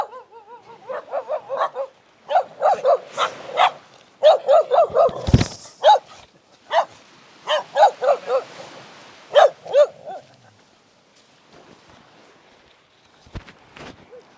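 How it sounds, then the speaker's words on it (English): Dogs in a quiet village area of Amed, Bali, bark in short bursts of clustered yaps and woofs, close and loud, with a thump in the middle, then fade to a few faint yips and scuffs. "Friendly dogs."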